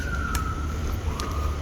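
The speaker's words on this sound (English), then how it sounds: "After that, you hear the sirens." Police sirens wailing outside, a faint high wavering tone drifting in the distance under a steady low background rumble.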